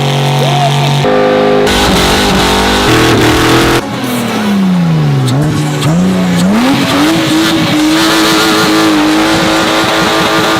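A Lamborghini race car in Ken Block tribute livery drifting, its engine roaring and rising in pitch while the tires squeal loudly and continuously, close and dominant throughout.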